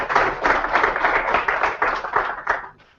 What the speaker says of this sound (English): So before we start, I would like you to applaud them,